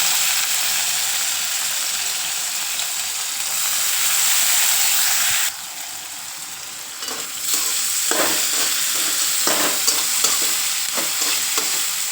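Soaked chana dal sizzles in hot oil with garlic, chilli and salt, a loud steady frying hiss broken by a shift midway and then repeated spoon-scraping strokes as it is stirred.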